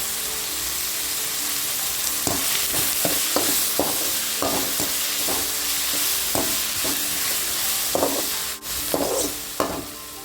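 Tomatoes sautéing in a pan for Kongu-style bitter gourd thokku, a steady close sizzle with repeated sharp scraping and stirring strokes of a spoon across the pan.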